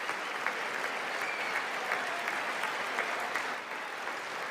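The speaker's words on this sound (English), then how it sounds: "They should at least like clap for the actual good things." Applause fills the chamber at the State of the Union address: sustained, dense clapping from a large audience that holds steady and then eases slightly near the end, with no voices.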